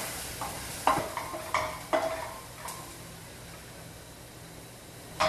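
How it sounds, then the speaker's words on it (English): Onions and garlic sizzle softly in a pan for pasta with tomato sauce, broken by several sharp scraping stirs of a utensil, close and fairly quiet, with no talk. "now we're going to throw in our garlic. And then just give that a little stir."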